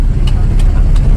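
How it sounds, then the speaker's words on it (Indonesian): Large trucks move through city traffic, a heavy, steady low engine rumble sitting close and loud throughout a brief moment. "ini truk-truk besar kok boleh masuk kota ya"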